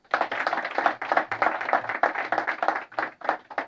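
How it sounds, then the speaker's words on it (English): An audience claps for a girl at a gathering, a dense burst of many hands applauding steadily for several seconds, fairly close and loud. "Please clap for this girl."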